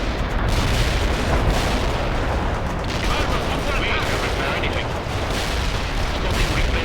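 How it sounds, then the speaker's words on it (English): A Soviet assault battle in the video game World in Conflict, with missile launches and firing: a loud, dense, continuous barrage of booms and gunfire and voices mixed into the din. "Missile launched."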